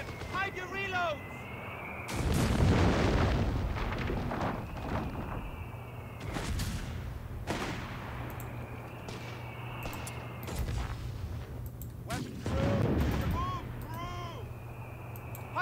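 Mortar and gunfire in a Company of Heroes 3 4v4 multiplayer battle: heavy booming impacts land at intervals, with rumbling blasts and scattered shots between them, loud and close.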